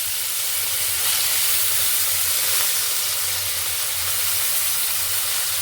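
Potatoes frying in hot oil in a wok give a continuous loud, even hiss of sizzling that holds steady for several seconds without any talking.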